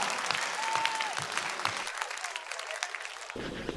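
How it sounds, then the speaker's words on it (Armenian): A television talent-show audience applauds as a contestant leaves the stage, a dense burst of clapping that dies away near the end before a brief low thump. "Ծափարություններով ճանապարհում։"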